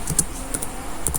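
Quick keystrokes on a computer keyboard enter a network configuration command, a handful of close, light taps in an uneven rhythm over a quiet room.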